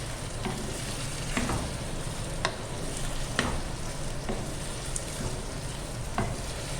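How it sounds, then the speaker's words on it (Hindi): Mutton liver fries in a karahi with ginger garlic paste, giving a steady close sizzle with occasional soft stirring scrapes and no voices. "इसको थोड़ा सा अच्छी तरह भूनते हैं"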